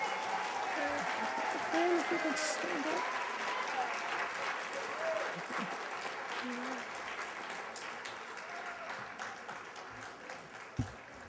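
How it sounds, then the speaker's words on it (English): Audience at a SABE conference general session applauding a standing honoree, a broad sustained round of clapping with scattered voices and cheers mixed in, gradually easing off toward the end. "I would like everyone to give him a round of applause for all the hard work he has done for SABE."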